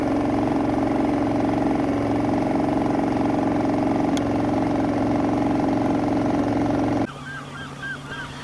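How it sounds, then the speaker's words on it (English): A boat engine idles in a loud, steady droning hum with a low throb for about seven seconds, then cuts off abruptly, leaving quieter open-air background on a Suffolk estuary. "thank goodness we could switch that engine off for a little while"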